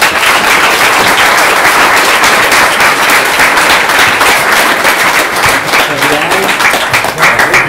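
Loud, continuous audience applause greets a guest at a Startup Grind Ireland event, many hands clapping in a dense crackle with occasional cheers and whoops from the crowd.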